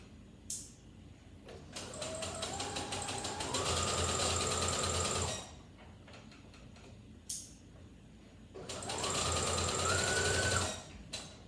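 Home sewing machine running a straight stitch on panty fabric in two bursts, each winding up to a steady high whir and stopping, with brief handling clicks and a quiet pause between runs.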